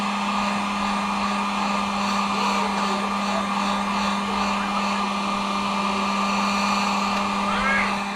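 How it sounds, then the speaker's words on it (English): Heat gun warming a car body panel on a 2021 Tahoe to help adhesive stick, a loud, steady blowing whine with a constant motor hum, close and unbroken throughout. "we'll probably use a heat gun to heat up the area just to make the adhesive stick a little better"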